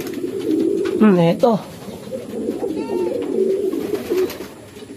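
Racing pigeons coo close by in soft throaty warbles during a pigeon race arrival check, with someone talking over and between the calls.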